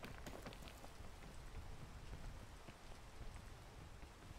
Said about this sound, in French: On va attendre qu'il arrête de pleuvoir.